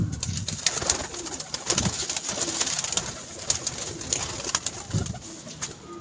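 Pigeons cooing with low, throaty repeated coos over a busy background of fluttering and scratching clicks, fairly close.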